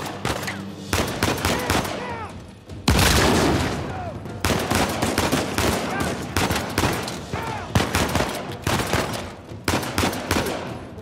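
Rapid gunfire crackles through a firefight in the Uncharted 4 video game: dense automatic bursts and single shots repeat almost continuously at close range, with one heavier blast near the start.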